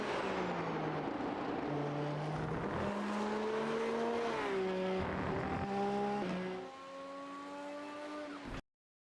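A Porsche GT3 race car engine at Watkins Glen in a racing game: loud continuous engine drone climbing in pitch through several gear shifts, with brief dips between, then easing off before cutting out abruptly.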